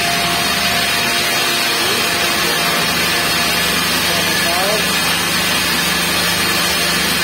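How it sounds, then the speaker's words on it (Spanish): Motors run steadily at night, giving a loud, continuous broadband whir and hum with a low rumble that holds unchanged for the whole stretch. "vamos a ver aquí los motores. Que hace ruido."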